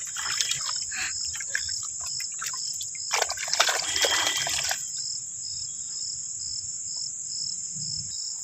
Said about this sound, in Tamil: எல்லாத்தையும் நல்லா அப்படி தேய்ச்சி விட்டு எல்லாம் கழுவி எடுத்துடலாம்.